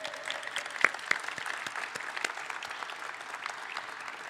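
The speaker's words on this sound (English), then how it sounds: "We could actually clap." Audience applause at a performing arts center annual meeting, a brisk round of individual claps from a modest crowd, with a few sharper nearby claps standing out.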